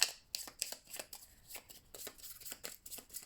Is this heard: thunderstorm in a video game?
no